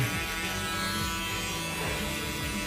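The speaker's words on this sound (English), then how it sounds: "Next step, we're gonna grab our shaver." An electric shaver buzzes steadily and close up while a barber works on a mid fade haircut, with the motor pitch wavering slightly as it moves over the hair and no talking heard.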